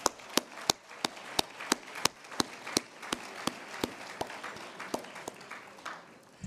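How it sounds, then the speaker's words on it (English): Slow, evenly spaced claps of applause at an awards gala ring out one after another, sharp and distinct, over a faint room murmur. "a round of applause"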